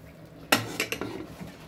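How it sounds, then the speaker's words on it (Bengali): A lid lands on a pot of masala with one sharp metallic clank, followed by a few lighter rattles as it settles, in a quiet kitchen. "এখন একটু ঢেকে রাখবো"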